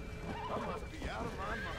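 A horse neighs and whinnies in the Red Dead Redemption: Undead Nightmare video game, heard over a busy game soundtrack with other voices talking in the background.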